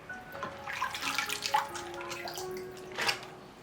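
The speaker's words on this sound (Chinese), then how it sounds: "先把这些青菜清洗干净" Leafy green vegetables, kept as whole heads, being rinsed in water: a soft, steady splash and trickle with brief louder swishes near the middle and end, fairly quiet and with no voices.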